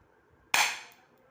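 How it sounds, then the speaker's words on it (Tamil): A toy pistol fires one bullet, giving a single sharp, close crack that decays quickly after a near-silent lead-in. "இப்போ வந்து நான் இந்த கன்னில் ஷூட் பண்ணி காட்டுறேன் உங்களுக்கு"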